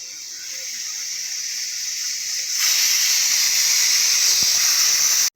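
A pressure cooker cooking dal curry lets off steam in a loud, continuous hiss that swells sharply halfway through, then cuts off abruptly at the end.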